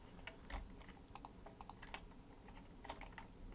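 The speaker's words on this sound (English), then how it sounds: "It's just getting kind of tedious with all the typing." Rapid, uneven keystrokes on a computer keyboard while coding a Bootstrap business theme, close and fairly quiet, with irregular clusters of clicks and brief pauses and no talking.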